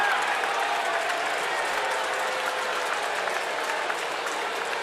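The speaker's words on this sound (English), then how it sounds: "the Bronx cheer here at Camden Yards" A baseball crowd at Camden Yards during an Orioles game against the Astros boos a pitching change after a rough inning, a loud, steady wash of massed voices holding for several seconds without a break.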